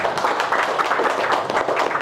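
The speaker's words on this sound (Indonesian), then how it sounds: "Kita tepuk tangan dulu ya untuk" Audience at a community neighbourhood meeting applauds, a dense, steady patter of many hands clapping together for about two seconds with no voices over it.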